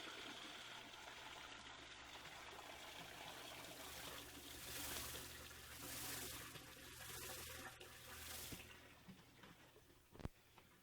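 Hot blanching water is poured off a pot of sweet corn, a continuous soft gushing and trickling stream that swells and eases, ending with a small clunk.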